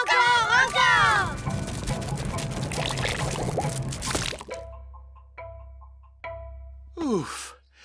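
A cartoon torrent of jelly gushes loudly for several seconds alongside vocal sounds, then cuts off into sparse drips and splats, ending with a swooping squelch.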